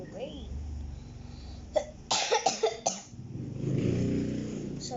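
A person coughs in a short cluster of sharp bursts partway through, close and fairly loud over a steady low background rumble.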